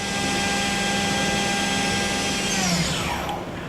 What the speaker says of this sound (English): that was a tool change or simulated tool change.